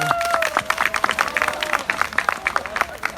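Scattered hand claps from a small church congregation, irregular and crisp, with a voice speaking over them.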